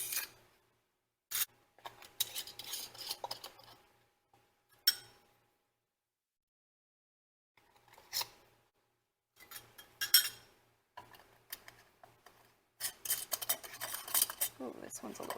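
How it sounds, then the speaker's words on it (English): Metal bands being screwed onto canning jar lids while putting up cherry chili sauce, heard as close, intermittent bursts of metallic scraping and clinking separated by quiet pauses. "I like to just hold the lid in place while I put the band on"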